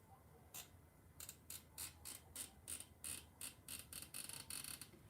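Zip tie being pulled tight around a handmade Christmas bow, giving a rapid series of faint, crisp ratcheting clicks in short bursts, close by and alone.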